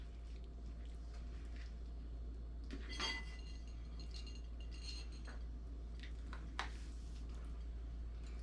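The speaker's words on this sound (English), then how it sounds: "We're gonna cut a little piece and we're gonna try it." A utensil cutting into shepherd's pie on a plate, giving a few faint, close clinks and scrapes against the dish over a quiet background hum.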